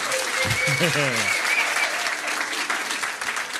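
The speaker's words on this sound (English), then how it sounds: "Give him a round of applause." A pub quiz audience applauds steadily throughout, with a voice briefly speaking over the clapping near the start.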